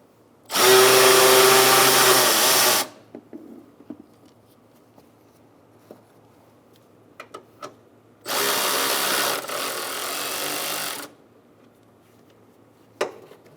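Two long, loud bursts of a power tool spinning strut nuts off the front strut assembly of a 2014-2018 Subaru Forester, separated by quieter clinks of handling parts in a garage.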